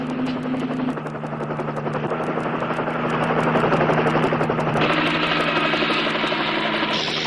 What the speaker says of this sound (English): The highway patrol copter. It's right on top of us.